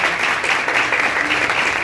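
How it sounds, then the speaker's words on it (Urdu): Loud, dense applause from a church congregation at a healing prayer service, steady sustained clapping filling the room with no voices on top. "آئیں سب مل کر یسوع مسیح کے لیے زوردار تالیاں بجائیں۔"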